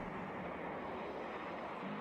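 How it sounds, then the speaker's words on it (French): A B-1 bomber takes off with a continuous broadband jet roar that stays steady and moderately distant throughout, with no voices. "Je veux dire, son décollage est bien plus impressionnant que celui du B-2."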